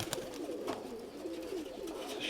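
Pigeons cooing close by during spring self-release training of racing pigeons, with soft repeated coos and a few wing flutters, no talking.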